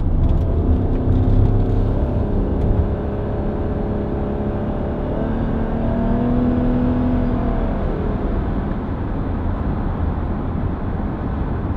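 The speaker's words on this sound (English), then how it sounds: "And of course the engine comes in there." A Lexus RX 450h hybrid's petrol engine starts up and runs with its CVT gearbox, giving a steady droning hum with gently rising and falling whine as the car pulls away, no talk over it.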